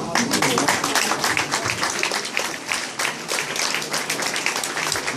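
An audience at a crime-fiction award ceremony, the Salon du Polar in Noisy-le-Roi, applauds steadily for about five seconds, a dense, even patter of many hands close by with no pauses.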